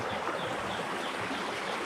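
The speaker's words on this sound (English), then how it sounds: "Can you hear that I'm right next to some water? I found a beautiful creek." A creek in an Indonesian jungle, lined with bamboo, gives a continuous close rush of flowing water, broad and steady with no pauses.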